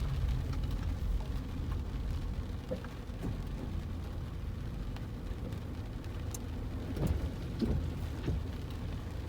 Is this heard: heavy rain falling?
yes